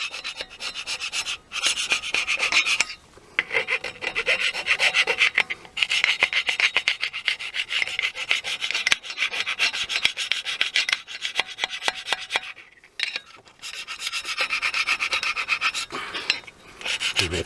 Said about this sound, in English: now I'm going to go in between here with that smaller chisel